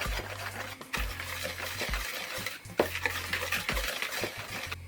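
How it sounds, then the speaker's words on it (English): Jamaican cornmeal pone batter with breadcrumbs, nutmeg, cinnamon and mixed spice being stirred in a bowl, a steady scraping swish that continues for several seconds with a few brief pauses, close and moderately quiet. "And we're going to blend everything together."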